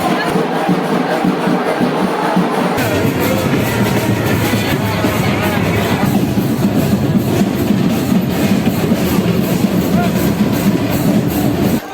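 A crowded passenger train heading to Nabadwip during the Rash festival rumbles steadily with a continuous low roar and rail noise, with a dense murmur of many passengers underneath throughout.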